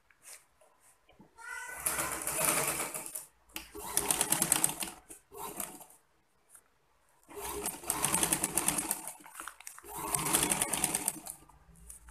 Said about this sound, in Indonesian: Kemudian kita jahit.